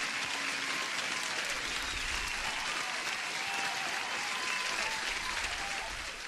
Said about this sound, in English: So let me give you an applause for subscribing.